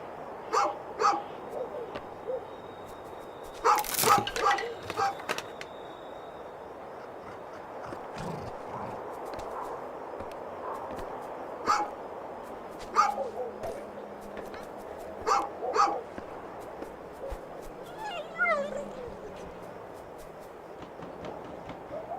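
A dog in the video game A Juggler's Tale barks in short bursts and whimpers softly, scattered intermittently across a quiet scene, with a narrator's voice heard at moments.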